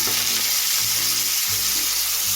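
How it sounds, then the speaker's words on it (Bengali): Meat being fried in oil with ginger and garlic in a pan, a loud constant close sizzle throughout, no talk. "মাংসটা চারের থেকে পাঁচ মিনিট আমি এবার হচ্ছে তেলের মধ্যে কষিয়ে দিচ্ছি"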